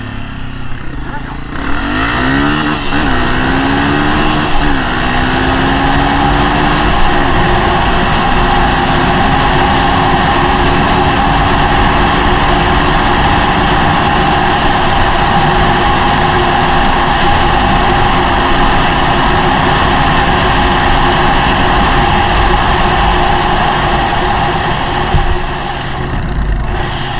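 A 2023 Honda CRF250F dirt bike engine climbs in pitch as it accelerates toward top speed, then holds a loud, sustained drone for the rest of the ride, with wind rush throughout.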